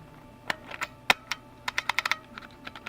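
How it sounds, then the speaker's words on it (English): An IBM Model F keyboard has a key pried off its switch, giving a scatter of sharp plastic clicks and taps, some quick and clustered, close and fairly quiet, with no talking. "I popped out the wrong key."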